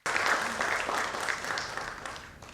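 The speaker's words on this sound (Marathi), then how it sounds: "यांचे आपण जोरदार टाळ्या वाजवून स्वागत करूया" Audience applause welcoming a guest at a Marathi talk-show event, a steady sustained round of clapping from a crowd that fades gradually near the end.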